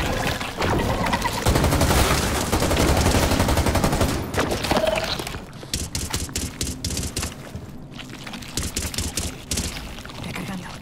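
Gunfire from a Rainbow Six Extraction match as players shoot at anchor points, a dense stream of loud shots over the first half, then sparser bursts of rapid fire with gaps.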